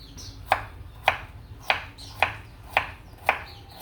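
Chayote being chopped into cubes on a board, seven sharp evenly spaced knife strikes about half a second apart, close and crisp over a quiet background.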